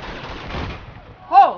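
Gunfire in Uncharted 2 on the PS4 Remaster: a single loud, sharp shot bursts near the end after a stretch of quieter muffled game noise.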